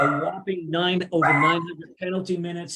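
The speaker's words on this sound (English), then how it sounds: "Sorry about my dog there." A dog barks and whimpers in short bursts during a hockey podcast, partly masked by someone talking steadily over it.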